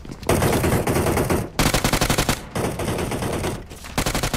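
PUBG Mobile gunfire rattles out in loud, rapid automatic bursts, four strings of fire separated by short pauses, close and dominant with no talking.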